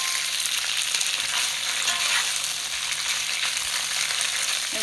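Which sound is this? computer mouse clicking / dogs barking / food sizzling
food sizzling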